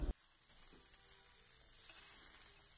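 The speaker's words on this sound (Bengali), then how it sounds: "এবার এর মধ্যে মিশিয়ে নেওয়া হলো ভাজা বাদামগুলো।" Sago polao with peas and fried peanuts sizzles faintly in a pan as it is stirred, a soft, steady crackle with a light knock at the start.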